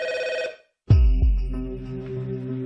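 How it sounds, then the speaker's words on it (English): An old-style landline telephone rings, one electronic ring tone burst, then after a short gap a louder bell-like ring strikes and rings on with long decaying tones, close and clear. "The phone rang and I answered it, and it was her."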